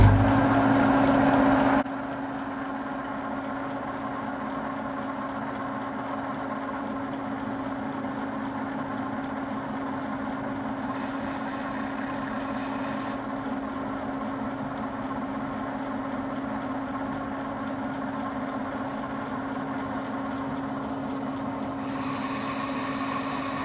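A boring machine cuts a pass inside an XR80R cylinder, a steady grinding hum with a low tonal drone running throughout, loud and close, with brief bright high-pitched bursts partway through and near the end.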